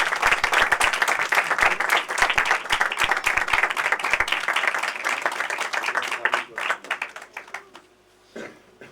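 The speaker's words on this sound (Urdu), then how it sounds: "زوردار تالیوں سے۔" Congregation applause at a church service, a burst of many hands clapping that thins out and fades toward the end, followed by near quiet.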